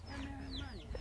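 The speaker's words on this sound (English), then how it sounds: "We have chicken there." Chickens cluck in an African village setting, a few short calls over steady background noise.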